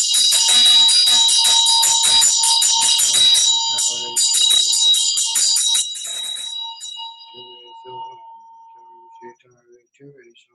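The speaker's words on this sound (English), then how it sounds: "The bell calls the Tara." A Tibetan Buddhist ritual hand bell rung in a Green Tara practice, a loud close rapid ringing that stops and restarts, then fades into a long shimmering decay with soft background sounds.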